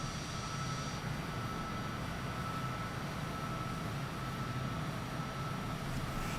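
An airplane engine drones steadily in flight in a video game, a constant loud hum and broadband rumble with no breaks.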